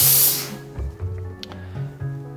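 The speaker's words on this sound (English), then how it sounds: "And that's the way we foam the milk." Loud hissing burst of steam from an espresso machine's steam wand at the start, then a gurgling, bubbling hiss with low rumbles as milk is frothed.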